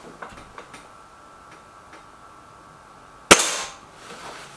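A Gamo Whisper Sting air rifle fires one sharp, close crack that fades quickly, with a few faint ticks in the quiet before it.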